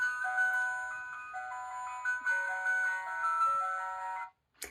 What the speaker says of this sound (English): All the kiddies know, oh, the ice cream van's coming,